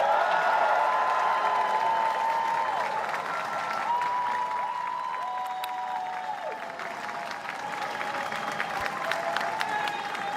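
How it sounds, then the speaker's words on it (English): A crowd gathered in Downing Street applauds the new Prime Minister, Keir Starmer, with sustained, dense clapping and some cheering that holds steady for about ten seconds. "applause from Keir Starmer, all of those who've waited this last hour or so in Downing Street to welcome the new Prime Minister"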